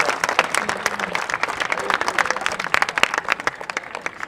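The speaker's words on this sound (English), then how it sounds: "I would love for you guys to give yourself a round of applause" Parents and supporters applaud at a youth soccer league under-15 and under-17 finals show, a lively round of individual claps that is close and uneven, with distinct sharp hand strikes standing out from the crowd.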